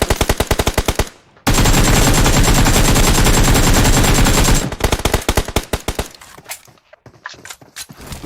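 Loud automatic gunfire from a tunnel fight in a shooting video game with 5.56 rifles: rapid bursts, one long sustained burst, then scattered single shots and short volleys.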